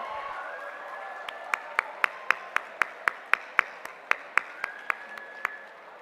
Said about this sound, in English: Can we put our hands together and give them a big round of applause